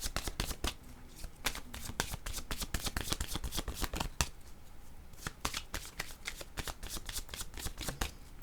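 Tarot cards are shuffled close by in a steady riffling stream of rapid crisp flicks and slaps that carries on without a break.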